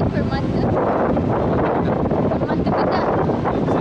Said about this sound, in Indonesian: Angin tu kuat.